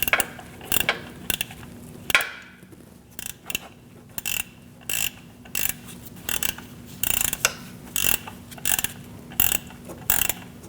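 A ratchet tightening the tensioner bolt on a 2.4L four-cylinder Chevrolet HHR engine, giving repeated short bursts of clicking pawl action with brief pauses between strokes, close and clear with no talk.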